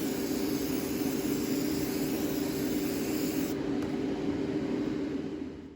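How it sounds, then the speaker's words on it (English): Cheap hairspray hisses in a long, steady, close spray over a model railroad pond scene, continuing evenly for several seconds before tailing off. "take some cheap hairspray and just spray the whole thing"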